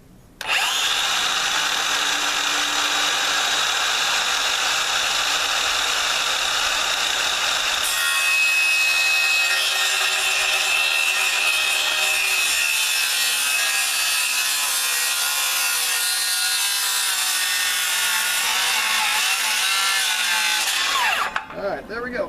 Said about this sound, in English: So you can always tell when these things are cut with a circular saw.